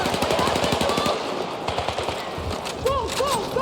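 Rapid machine gun bursts rattle close and loud in the Battlefield 6 video game, mixed with battlefield noise and shouted voices.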